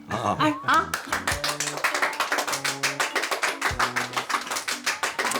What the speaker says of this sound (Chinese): 我觉得此处应该有掌声